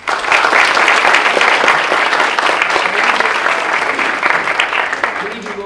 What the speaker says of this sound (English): Want another round of applause.